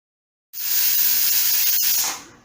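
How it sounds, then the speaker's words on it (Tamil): Pressure cooker with chickpeas releasing steam, a sudden loud hiss that starts abruptly, holds steady for about a second and a half, then tapers off. "மூடி போட்டு 3 விசில் போடணும்."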